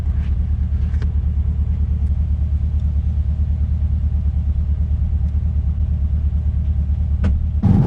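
A 2021 Corvette C8 driving with its roof off, a constant low rumble of engine and rushing wind filling the whole stretch, with a few faint clicks and a brief sharp tap near the end.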